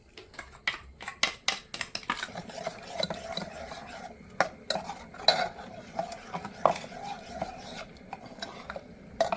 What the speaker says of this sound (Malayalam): അരപ്പ് ചേർത്ത് നന്നായിട്ടൊന്ന് മിക്സ് ചെയ്തു